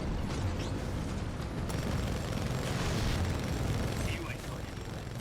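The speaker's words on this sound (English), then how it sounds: "now they're going to start airstriking" Heavy rumbling airstrike explosions in the video game Titanfall 2, a dense, continuous roar of booms and bursts lasting throughout, loud and close, with faint game voices underneath.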